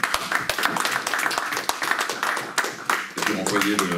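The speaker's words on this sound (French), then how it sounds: "On va applaudir Denis Péchanski" Audience applause for a lecturer at a commemoration event, with brisk, dense clapping from a crowd and voices talking over it.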